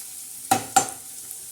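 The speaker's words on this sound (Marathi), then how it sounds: "हे बघा, आता ह्या पद्धतीने असं छान असा परतून घ्यायचा." Tempering sautéed in a pan for shev bhaji, with a steady low sizzle and two sharp stirring scrapes of a spoon against the pan, close and alone.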